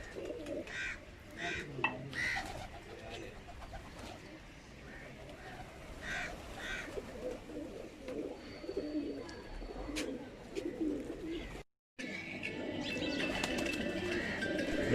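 Pigeons cooing in Minchinabad city, Pakistan, soft repeated coos and bird calls close by among rustling and outdoor background noise, with a brief dropout partway through.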